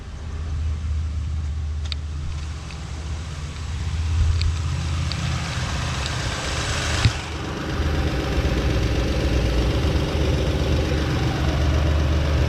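Car engine idling steadily after a start, a continuous low rumble that holds at a fairly even level throughout, with a few faint clicks and one sharp knock partway through.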